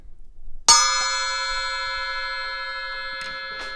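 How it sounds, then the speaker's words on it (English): A single sharp strike on a very thick 8-inch bell cymbal rings out with a bright, piercing ping that sustains and slowly fades, followed by faint taps. "It's an 8-inch bell, very thick. And it has that very loud pinging sound."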